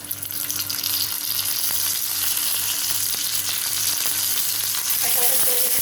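Stuffed bitter gourds being laid into hot oil with browned garlic give a steady, close frying sizzle that holds loud and even throughout, with a few light clinks near the end.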